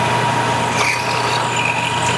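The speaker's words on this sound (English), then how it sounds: "Right now we're drilling the holes in the deck before we tap it." Power drill boring holes into a scooter deck for grindrail screws, a steady high-pitched motor whine held continuously at close range, with faint squeals of the bit and no talk.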